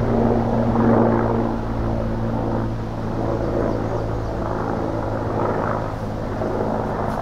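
A military helicopter flies past outdoors, its rotor and engine a steady, heavy drone that swells slightly and holds for several seconds, with no one speaking.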